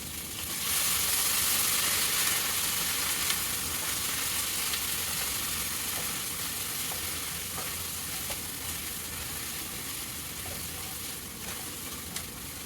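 Chorizo and other protein sizzling steadily in a hot pan, a dense continuous frying hiss with occasional faint pops and stirring clinks, close and even in level throughout with no talk.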